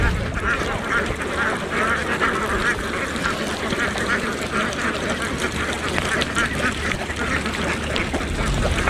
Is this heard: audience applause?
no